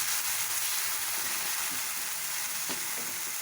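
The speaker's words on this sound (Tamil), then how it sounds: "இது நல்லா எல்லாம் ஒன்றா சேர்ந்து வதங்கி எண்ணெய் பிரிஞ்சு வரட்டும்" Ginger garlic paste sautéing in oil in a pan while cooking palak paneer masala, a steady, even sizzle and fry hiss filling the whole stretch with faint stirring sounds, no voices.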